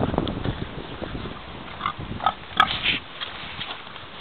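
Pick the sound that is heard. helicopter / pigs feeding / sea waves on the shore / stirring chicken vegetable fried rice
pigs feeding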